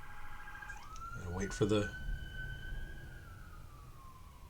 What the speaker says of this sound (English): I think that was an ambulance.